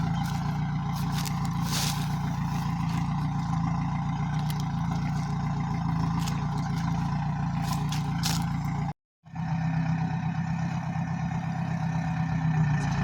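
A tractor with wide tyres works in a sugarcane field, its engine droning in a steady low rumble close by, briefly cutting out for a moment before the same hum resumes.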